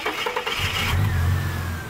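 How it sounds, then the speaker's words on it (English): A 4-litre inline-six in an older Ford Falcon that sat nearly undriven for six years turns over and catches, settling into a steady, fairly loud low rumble with a faint whine above it. "We've got a 4-litre inline-6 engine"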